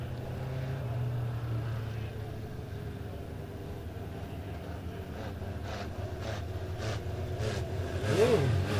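Mini stock race cars circling a dirt track at a raceway, engines droning steadily throughout with a louder surge near the end, along with other engine noise and a faint voice in the background.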